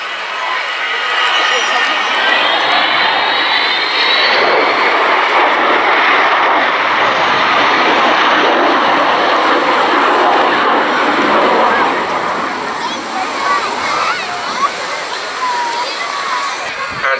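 The Avro Vulcan XH558 delta-wing bomber flies at the 2015 Cleethorpes Air Show, its jet engines making a loud, continuous roar that fills the air throughout, with a rushing, slightly wavering tone.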